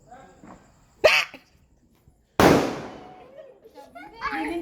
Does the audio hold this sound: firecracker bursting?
yes